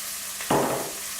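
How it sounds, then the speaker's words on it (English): Chopped bacon tipped into a hot pan with chopped onions bursts into a sudden, loud sizzle midway, then settles into a softer crackling hiss. "Now I'm going to put the bacon in, and I'm going to let that fry up for a little while"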